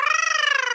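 Brief cat meow sound effect from the Pounce and Purr spell in the Anichess chess video game, a short bright tonal mew with a fast fluttering pulse, heard alone.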